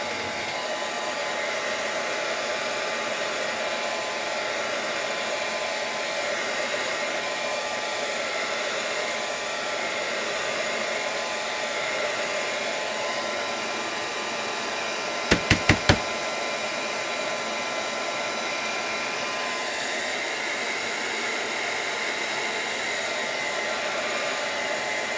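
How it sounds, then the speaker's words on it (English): A hair dryer blowing steadily on an art journal page, a loud continuous whirring rush held without a break, with a brief cluster of knocks near the middle and no talking. "let me just hit it with the dryer really quick"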